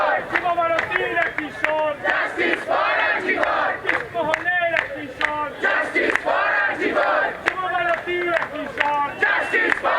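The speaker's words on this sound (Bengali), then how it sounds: "আজকেও এই মুহূর্তে সেখান থেকে প্রতিবাদ এবং স্লোগান উঠছে উই ওয়ান্ট জাস্টিস" A crowd of protesters at Jadavpur chants a slogan in loud, rhythmic unison, with repeated shouted phrases and claps filling the whole stretch close by.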